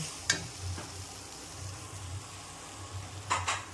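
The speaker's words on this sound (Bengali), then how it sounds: "নুন হলুদ দিয়ে মাখিয়ে রাখা মাংস দিয়ে দিচ্ছি" Salted, turmeric-coated chicken going into a pan of cooked-down masala, a faint low sizzle with a few soft clicks and taps of utensils, quiet and close, no talking.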